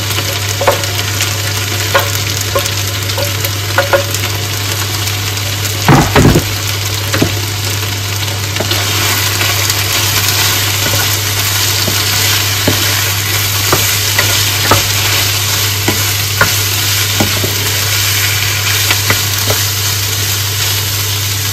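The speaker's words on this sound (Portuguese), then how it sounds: "Já dá pra perceber que deu uma fritadinha, né? Eu venho aqui agora com a cebola e o alho." Onion and garlic fry in a pan for curry with a steady, close sizzle and occasional stirring scrapes, and a constant low hum runs beneath it.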